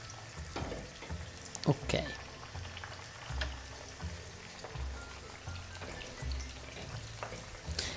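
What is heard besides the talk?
onion frying in a pan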